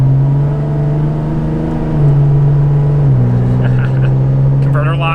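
A 5.9 Cummins diesel truck running a strong tune accelerates hard, its loud steady engine drone stepping up in pitch through gear changes, with a voice talking over it near the end.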